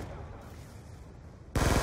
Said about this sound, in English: They have a sentry gun upstairs and downstairs.